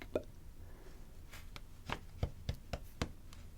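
Soft, sparse taps, a handful of light knocks spaced irregularly then quickening slightly near the end, close and quiet with no talking.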